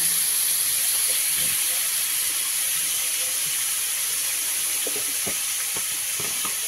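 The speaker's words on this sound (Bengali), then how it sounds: "সেই চিংড়ি মাছটা তেলেতে ভেজে নেওয়া হচ্ছে" Prawns fry in hot oil for a gourd-and-prawn curry, giving a steady, loud broadband sizzle throughout with a few faint knocks and scrapes near the end.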